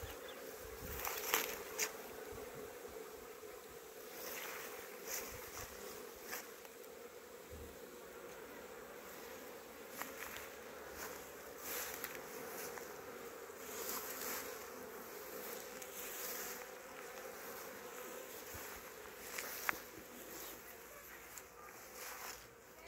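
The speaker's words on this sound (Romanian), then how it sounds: "Acestea sunt albinuțele mele" Honeybees buzzing around beehives on a farm, a steady dense hum of many insects close by, with occasional louder bees passing near and faint background sounds.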